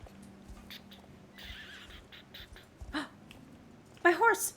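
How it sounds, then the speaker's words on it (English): A horse whinnies in the Star Stable video game, a short bright neigh near the end following quieter hoof and ambient game sounds, loud and close. "My horse just whinnied"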